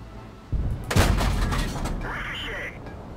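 A tank shell striking and glancing off armor in World of Tanks, a sudden loud boom followed by a sharp crack and a ringing, whining tail fading over the next couple of seconds.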